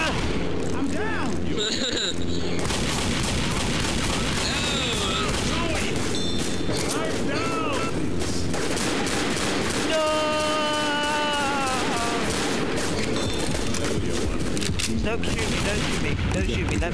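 Gunfire in the video game Left 4 Dead, dense continuous bursts of shots and booms filling the whole stretch, loud and close, with players talking over it.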